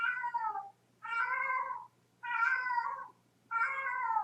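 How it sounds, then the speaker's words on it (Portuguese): Cats fighting outside yowl and wail in repeated drawn-out cries, four long harmonic calls separated by short pauses, fairly close and clear with no talking. "tem gato brigando lá fora"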